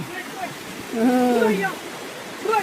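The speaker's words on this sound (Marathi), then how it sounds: "आमच्या गावाच्या रस्त्यानं पाणी वाहते" Rainwater rushes steadily down a village road during rain, with people talking over it.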